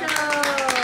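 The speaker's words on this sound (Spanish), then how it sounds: "Vamos a darle un aplauso a mamá." Brief clapping for the mother at a birthday celebration in Puerto Rico, a few quick hand claps heard under a voice and a steady tonal background.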